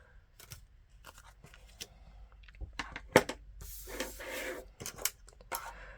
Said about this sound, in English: you're going to be cutting through both sides of the card.